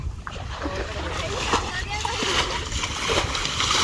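Water splashes and sloshes continuously as it is bailed by hand out of a flooded field while catching fish, with loud, steady splattering throughout and voices talking over it.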